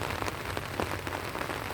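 Steady rain falling on surfaces outdoors near a fishing spot, a dense even patter of drops with no talking.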